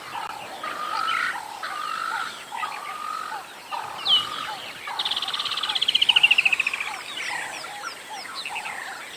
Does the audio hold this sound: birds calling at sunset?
yes